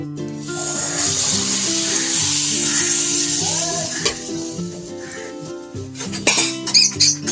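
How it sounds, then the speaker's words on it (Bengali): Malpua batter made with palm fruit sizzles steadily in hot oil in a kadai with a bright crackling hiss, while a faint tune plays in the background and utensils clink near the end. "কড়াইয়ের তেলটা গরম হয়ে গেছে তো এই হাতায় করে এক হাতা করে দিয়ে দেবো"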